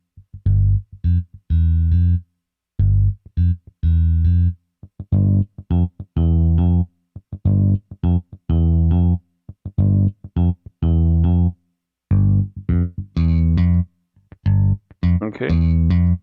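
Bass tones from a Boss DR-880 drum machine, played as a series of short, loud, separate notes with gaps between them as the tone changes, their character shifting from one to the next.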